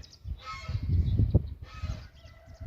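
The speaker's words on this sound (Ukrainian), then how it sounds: "Кричить гусак" A gander at a village poultry yard honks loudly and repeatedly, rapid nasal calls in two bursts, close and unaccompanied by talk.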